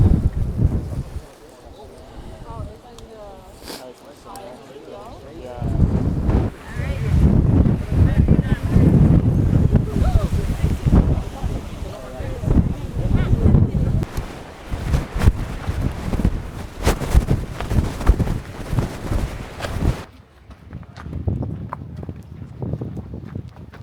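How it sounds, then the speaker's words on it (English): Strong gusting wind buffets the microphone at a lookout on the Santa Ana volcano in El Salvador, a loud continuous roar that rises and falls, with people talking under it. "It's super windy"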